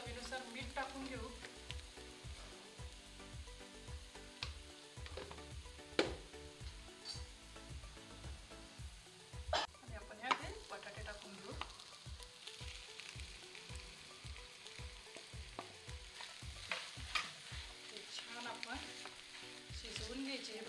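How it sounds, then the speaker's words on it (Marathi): Vegetable filling for vadas, seasoned with green chilli paste and salt, is sautéed in a pan with a steady sizzle under repeated rhythmic scraping strokes of a spoon, close by and continuous, with no talking. "शिजवून घ्यायची भाजी परतून"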